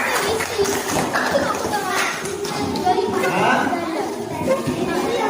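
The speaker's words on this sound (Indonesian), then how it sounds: "beri tepuk tangan semua untuk kawan kita dua ini" Classroom of children clapping for two classmates, a scattered burst of applause mixed with children chattering and a teacher talking over it.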